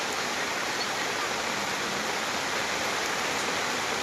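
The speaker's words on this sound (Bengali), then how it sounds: "এ কি বৃষ্টি, আমরাই বসে রয়েছি এই জায়গায়" Heavy rain pours down in a dense, even roar, close and constant from start to finish, with no voices over it.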